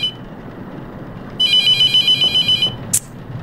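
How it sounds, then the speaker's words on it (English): A telephone rings inside The Mortuary Assistant horror game, sounding as a bright electronic trill in a run of quick repeated pulses for about a second and a half, then a short sharp click, all over a quiet low ambient hum. "if I don't answer the phone, it's just gonna keep ringing"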